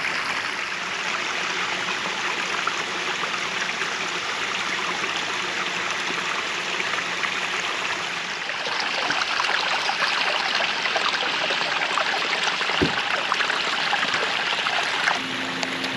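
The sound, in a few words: water flowing down pondless waterfall stream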